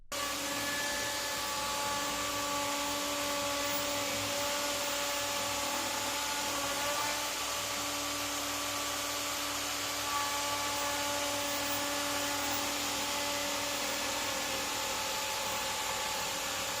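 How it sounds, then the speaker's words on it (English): A steady, high-pitched router whine drones on without a break, removing excess resin from an end-grain apple wood tabletop, loud and close with no voices. "Next, I remove excess resin with a router."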